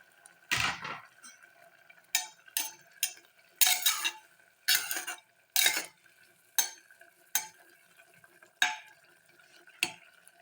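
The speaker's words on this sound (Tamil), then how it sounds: "இப்போ வெண்டைக்காய் கட் பண்ணியாச்சா இந்த வெண்டைக்காயெல்லாம் இதில் சேர்த்துடலாம்" Cut okra tipped into a pot and stirred while making Andhra-style okra rasam: a string of short, spaced scraping and clinking strokes of a utensil against the pot, close and fairly clear, with no talking.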